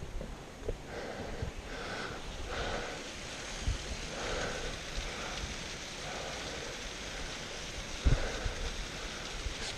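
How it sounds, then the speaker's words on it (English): Waterfall on a fell walk near Knott and High Pike, a continuous broadband rush of falling water heard from a moderate distance, with a few faint knocks and footsteps over it. "There's a waterfall."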